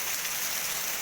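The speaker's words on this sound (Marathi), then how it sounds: "कोसलदार पाऊस पडतो या कोकणात" Heavy monsoon rain pours down in the Konkan hills, a dense, steady hiss of drops hitting surfaces with no break, close and even throughout.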